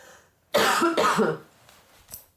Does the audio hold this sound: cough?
yes